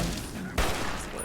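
Gunfire in the game Fallout, a single loud sharp shot bursting out midway through a dense, noisy combat background.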